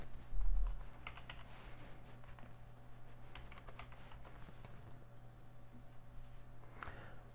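Keys tapped on a computer keyboard while a network storage address is entered, a quiet run of soft clicks in small bursts over steady low room hum, with a louder thump near the start.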